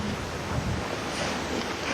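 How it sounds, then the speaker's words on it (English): Wind blows steadily across the microphone during a canal boat trip, a brief, even rush of noise with no speech. "It's windy, isn't it?"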